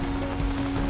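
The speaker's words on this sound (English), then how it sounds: "really, really raining still." Heavy rain falls outdoors in a steady, loud, dense hiss with no break and no voices.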